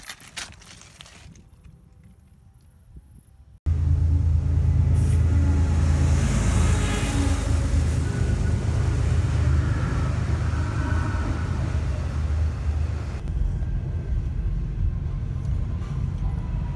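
Loud, steady low rumble and rattle of a moving freight train heard from aboard a car on the line between Amarillo and Dallas, Texas, starting abruptly after a quieter opening and continuing without a break.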